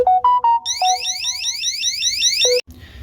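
A Govee water leak detector dropped into water sounds a loud electronic alarm: a few short beeps, then a rapid rising warble lasting about two seconds that cuts off abruptly.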